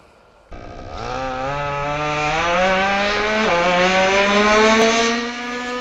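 A small nitro RC car engine with a two-speed transmission screams and revs up, its pitch climbing, dipping briefly as it shifts gears too early, then climbing again, loud and close.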